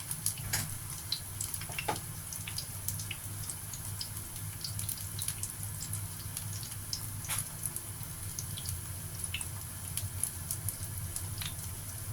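Chinese-style shrimp cakes frying in hot oil, a steady low sizzling bubble running throughout with scattered crackles and pops, fairly quiet and close, with no talking.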